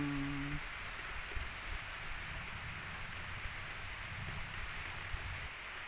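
Heavy rain pours steadily outdoors under a darkening sky, a dense even hiss with a few faint drips and patters throughout.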